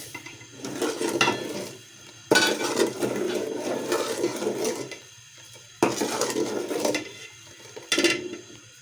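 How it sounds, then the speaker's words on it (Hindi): Half a kilo of sugar being poured into peach pulp in a cooking pot, heard as several rough, hissing bursts of granules striking the pot, separated by short pauses. "आधा किलो चीनी इसके अंदर डालूंगी।"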